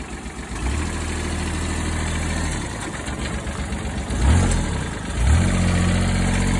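A diesel utility vehicle, a cheap Mule, idles after a cold start with a steady, close chugging drone, briefly interrupted by a couple of louder revs before it settles back into an even idle.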